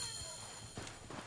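A camel mount's footsteps in the Assassin's Creed Origins video game make a few soft, irregular thuds, faint against a low steady background with no talking.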